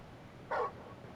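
A dog in the video game Final Fantasy XVI gives a single short bark, brief and moderately close against a quiet background.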